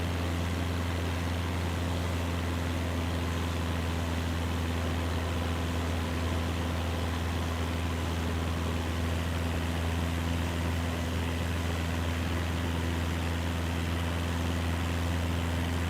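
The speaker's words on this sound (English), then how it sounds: "the airplane is really loud on the outside." An airplane engine drones steadily, heard loud from outside the aircraft, a constant low humming roar with a steady tonal whine and no pauses.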